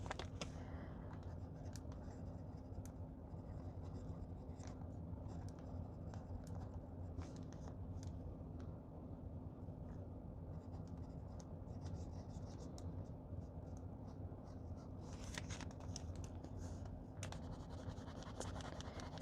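A fountain pen with a broad TWSBI nib scratching continuously across paper, faint and close, with steady strokes and small scrapes over a low background hum, no speech.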